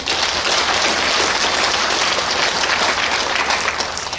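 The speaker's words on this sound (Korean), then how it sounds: "우리 찬양대원들을 위해서 박수 한번 쳐주세요." A church congregation claps for the choir in a dense, steady round of applause that fills the space at full strength from start to finish, with no voices rising above it.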